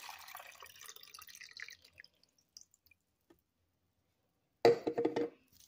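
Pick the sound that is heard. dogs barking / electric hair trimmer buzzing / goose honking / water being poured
water being poured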